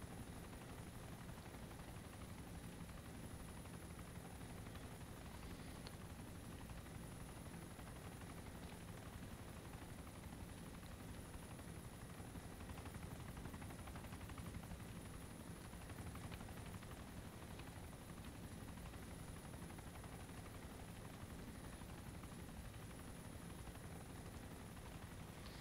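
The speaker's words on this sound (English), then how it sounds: "the Chinook does come down pretty slow anyway" A Chinook helicopter descends in the video game ARMA 2 DayZ, its rotor drone a steady, even wash that holds unchanged throughout, with no voices.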